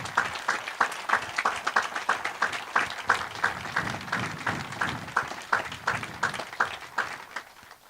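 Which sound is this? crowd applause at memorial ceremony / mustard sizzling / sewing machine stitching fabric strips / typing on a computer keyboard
crowd applause at memorial ceremony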